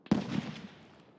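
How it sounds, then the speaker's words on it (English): A grenade blast in the Escape from Tarkov shooter at the Shoreline resort map: one sharp, loud boom that rolls briefly and fades into a short decaying rumble, heard alone. "That was a grenade."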